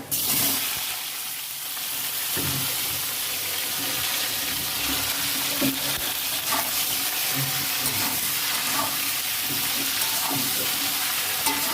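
Vegetables with spices frying in a pan, a dense, steady sizzle close by with occasional stirring clatters and pops, no one speaking.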